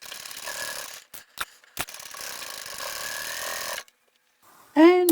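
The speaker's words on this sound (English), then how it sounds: "I'm going to triple stitch over the webbing on both of those at each end." A sewing machine runs in bursts while triple stitching over webbing handles, a steady mechanical whir broken by short pauses, followed by a brief squeaky scrape at the end.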